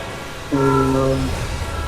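A train horn in a Roblox game gives one steady, loud, close blast of under a second, held over a low rumble that continues after it stops.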